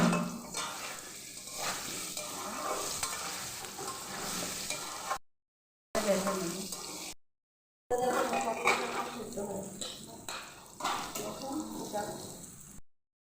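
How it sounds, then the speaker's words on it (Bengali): Potatoes sprinkled with salt fry in a pan, a moderate sizzle with stirring scrapes, broken by several short silent cuts; a watery, splashy quality runs through parts of it. "ভাজার সময় অল্প পরিমাণ লবণ দিলে ভালো হয়"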